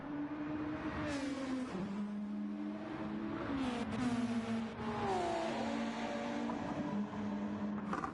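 A 2008 NSX race car in a racing video game, its engine loud and close, revving hard through repeated upshifts with pitch climbing and dropping, over continuous track noise with other cars nearby and no voices.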